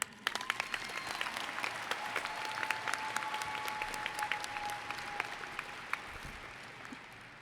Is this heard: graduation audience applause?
yes